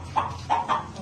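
A rooster kept among pet birds clucks three short, fairly faint times in quick succession against a quiet background, with no one speaking.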